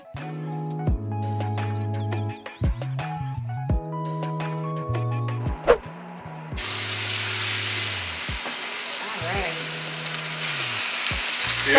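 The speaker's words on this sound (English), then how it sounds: "You let the chicken sear for the same as like with the pork chop for like 1 or 2 minutes" Chicken sears in a greased pan with a steady sizzle that swells louder partway through, while low tonal mechanical hums and clicks sound underneath.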